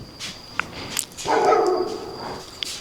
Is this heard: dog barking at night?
yes